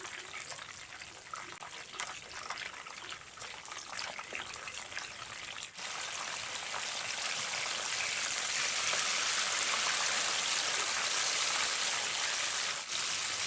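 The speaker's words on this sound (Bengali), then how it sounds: "তেলের মধ্যে কিন্তু কলাগুলো ভালো করে আমি ভেজে নেব, এপাশ ওপাশ করে।" Banana pieces fry in hot oil, a steady hiss that swells louder and denser partway through and holds there, with a few faint clinks of utensils and no talking.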